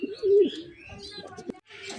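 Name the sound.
Bombay pigeons cooing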